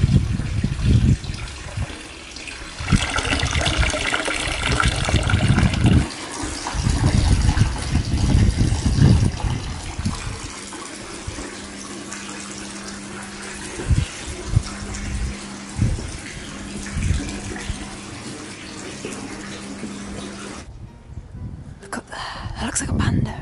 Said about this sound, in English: Hey, look, a waterfall.